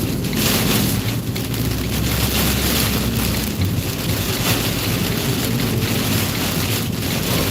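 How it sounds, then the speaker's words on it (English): A strong storm wind in Kentucky roars loud and constant, a dense, rushing blast with rain-like hiss that holds steady throughout and has no talking. "This is the worst wind we've been in today."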